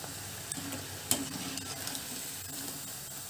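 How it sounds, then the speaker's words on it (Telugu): Sabudana buttermilk fritters (saggubiyyam challa punukulu) deep frying in oil, bubbling in a steady, quiet sizzle with a few small pops and one sharper crackle near the start. "ఈ విధంగా పునుగులు అన్నిటివి వేయించుకోవాలండి"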